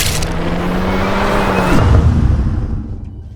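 A Volkswagen Golf R 20 Years special edition fires up in emotion start mode, a loud broadband engine roar that builds steadily, swells into a deep rumbling blip near its peak, then settles toward a quieter idle.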